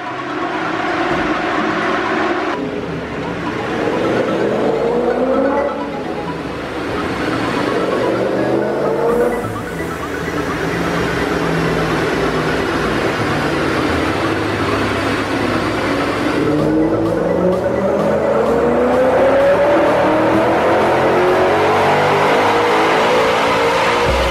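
Supercharged BMW M5 engine revving hard on a dyno, loud and close, sweeping up through the revs in long rising pulls with brief drops between them, with no voices.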